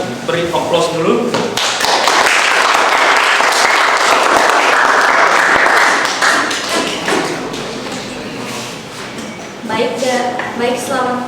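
A classroom group applauds as the first student group comes up to present: dense, loud clapping that swells, then fades over several seconds, with a teacher's voice speaking before and after.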